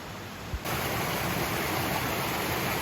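Waterfall cascades along a hiking trail in Grayson Highlands roar in a steady, dense wash of rushing water, close and loud, with one soft thump near the start and no voices.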